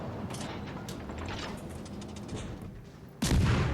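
Ship guns fire in a tier 2 World of Warships Legends naval battle. Distant muffled booms sound throughout, then one loud close salvo lands near the end.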